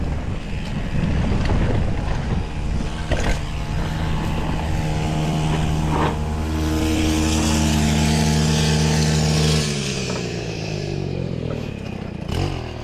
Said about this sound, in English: Weed whacker guy ahead.